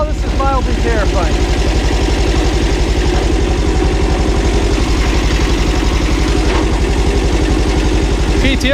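A Kubota homesteading tractor's diesel engine runs steadily with the PTO engaged, a loud, close, even idle-like throb with rhythmic low pulsing that continues unbroken throughout.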